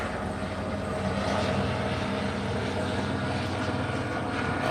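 A low-flying aircraft drones overhead outdoors with a steady, broadband rumble that holds at an even loudness throughout, with no talking.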